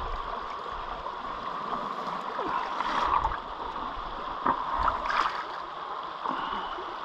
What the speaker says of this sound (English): I hope this sluice is set up right, it doesn't wash away any gold that I've got